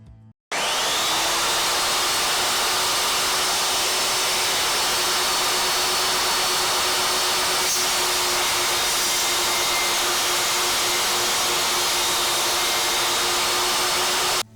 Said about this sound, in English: we're going to try just that alone and see how it does